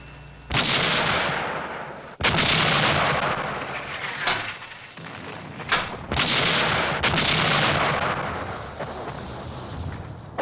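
British 15-inch coastal guns fire artillery from the Dover coast at Boulogne: a series of heavy, loud booming blasts, each followed by a long rumbling roll that blends into the next, with no voices.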